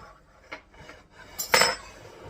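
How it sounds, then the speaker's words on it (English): A 9x13 metal baking pan handled in a kitchen: a few light clanks and rattles, with one louder metallic clatter near the end, close and alone. "what I'm going to do is take a 9x13 pan"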